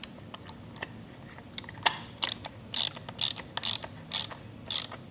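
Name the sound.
tool tightening Kawasaki ZX6R oil drain plug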